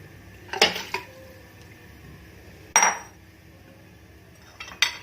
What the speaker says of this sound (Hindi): हमने चूल्हा ऑन कर लिया है और अब इसके अंदर गोश्त डालेंगे।